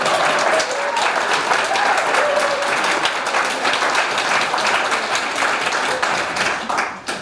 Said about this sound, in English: You can applaud that one.